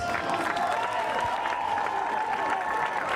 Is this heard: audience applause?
yes